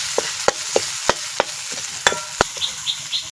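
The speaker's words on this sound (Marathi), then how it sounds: "कोथिंबीर लसूण आणि खोबरं चांगलं परतून घ्यायचं." Coriander, garlic and fresh coconut sauté in a pan with a soft sizzle under about a dozen sharp, evenly spaced taps and scrapes of a spatula against the pan, close up and without talking.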